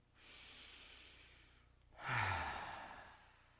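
A deep breath during a yoga class: a long, soft inhale swells and fades, then after a short pause a fuller, louder exhale with a low voiced sigh, close and alone.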